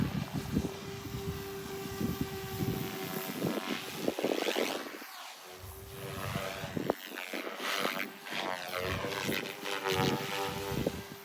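A new Goosky RS4 RC helicopter flies nearby with a steady high rotor and motor whine, its pitch rising and falling through manoeuvres for the whole stretch, while occasional low thumps and wind buffeting sound underneath.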